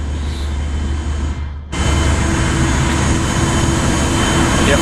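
Helicopter in Microsoft Flight Simulator 2024 running as a steady, loud engine and rotor drone that briefly dips, then resumes with a constant broadband roar and no talking.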